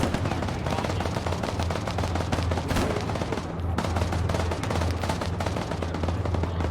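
A vehicle-mounted gun hammers out rapid automatic fire in a war video game, a dense continuous stream of loud close shots with a brief break midway before firing resumes.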